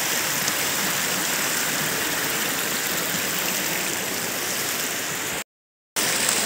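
Cold water flows in a stream with a dense, steady rushing wash, loud and close, cut by a brief dropout near the end.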